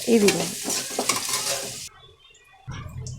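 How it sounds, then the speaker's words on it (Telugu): Onions with curry leaves fry in a pan while being stirred, a steady close sizzle with scraping for a couple of seconds before it drops almost silent, then the sizzle returns. "కొంచెం గోల్డెన్ కలర్ వచ్చేదాకా మనం ఉల్లిపాయల్ని వేయించుకోవాలన్నమాట."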